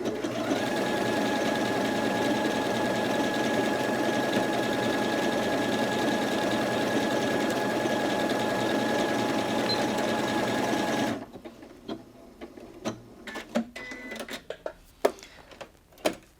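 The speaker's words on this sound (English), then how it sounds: "I'm now going to press the mirror button and stitch that same pattern again" A Janome Atelier 6 Anniversary Edition sewing machine stitches a mirrored decorative pattern in a steady, loud mechanical whir that runs unbroken, then stops abruptly, leaving a few scattered clicks and handling knocks close by.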